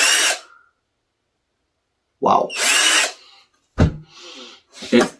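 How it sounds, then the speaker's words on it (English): A cheap 12V cordless drill switched to drill mode runs in three short bursts, a brief whir at the start, then a longer sustained spin, then two quick revs, close and fairly loud with silence between. "let's crank her all the way up to drill mode"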